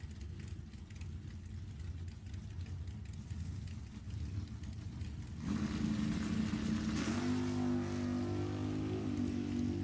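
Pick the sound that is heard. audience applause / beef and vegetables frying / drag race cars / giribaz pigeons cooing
drag race cars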